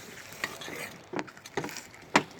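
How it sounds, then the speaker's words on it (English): Slime made of glue and activator being stirred: wet squelching and scraping strokes, with a few sharper clicks of the utensil against the container, close by and fairly quiet. "keep stirring because it'll probably come together."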